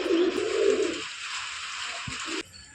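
A Rampuri Kaldam pigeon gives a low, close coo that lasts about a second and then falls quiet against a faint steady background hiss.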